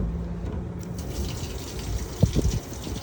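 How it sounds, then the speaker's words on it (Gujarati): Water runs steadily from a public drinking-water tap into bottles and jerry cans at a roadside water station, a continuous gushing wash with a few brief knocks and splashes near the end. "બધા પાણી ભરી જાય અહીંયા ચાલુ જ રહે."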